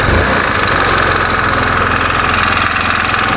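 A carburetted Honda Beat scooter engine idles too high after its choke jammed and the throttle was raised, a loud, close, steady mechanical hum with a fast rattling pulse and no break.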